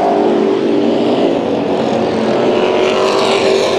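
Street stock race cars roar around the Orange Show Speedway oval, a loud, steady engine drone close by that swells slightly as cars pass, with no talk.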